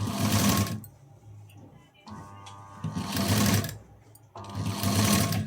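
A sewing machine slowly stitches a piping strip in three separate runs, each a loud, close mechanical whir, with quieter handling pauses between them.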